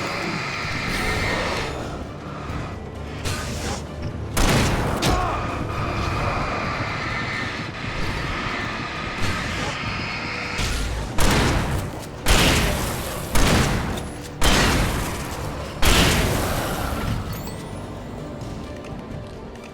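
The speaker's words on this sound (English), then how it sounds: "That was kind of too many shots." Repeated gunshots in the Alan Wake Remastered video game, in a silver mine level: a string of sharp, loud bursts at uneven intervals that grow more frequent toward the end, over a steady rumbling game background.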